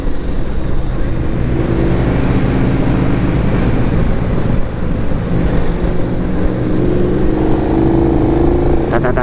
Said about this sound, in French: On reconnaît très bien la sonorité d'un V-Twin.